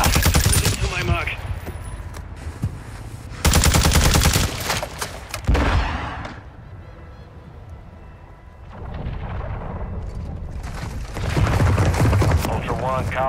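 Gunfire in the Call of Duty DMZ video game, loud bursts of shots and heavy booming reports that come in dense clusters and leave quieter stretches between them, with radio-style voice chatter from the game running alongside.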